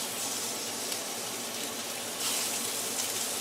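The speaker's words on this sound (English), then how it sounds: "Place them in the pan. You want to hear that sizzle." Steady, hissing crackle of burgers sizzling in an oiled pan, close and even throughout, with no talking.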